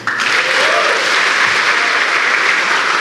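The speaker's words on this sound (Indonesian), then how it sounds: "coba tepuk tangan." Dense, steady applause from an audience at an Indonesian stand-up comedy show fills the room, loud and continuous from start to finish.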